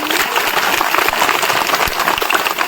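An audience claps loudly and steadily in honour of soldiers at a talk about jobs after ITI training, a dense, sustained applause throughout with no voices heard.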